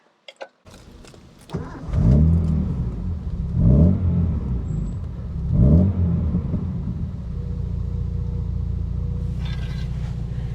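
A Datsun 240Z classic sports car engine cranks and fires up with a few loud revving bursts, then settles into a steady, deep rumbling idle close by.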